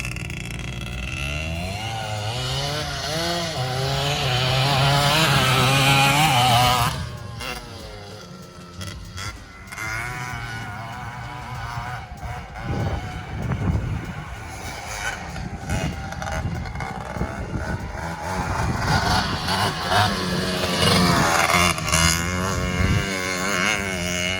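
A Yamaha Raptor 700 quad fitted with a two-stroke Kawasaki engine is ridden outdoors, its loud revving engine rising and falling in pitch as it accelerates, fades off and returns close again.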